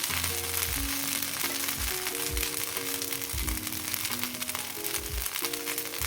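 Instant tempered dosa sizzles and fries in oil on a hot pan, a steady crackling hiss running throughout beneath tonal background music.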